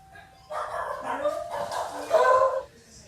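Dogs barking and yipping excitedly for a couple of seconds in a home, fairly loud and close, with a burst of louder barks near the end before they settle.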